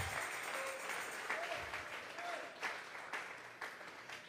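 A church congregation claps during a Tuesday Bible study, a dense, steady patter of many hands that continues evenly at a moderate distance, with a voice faintly underneath.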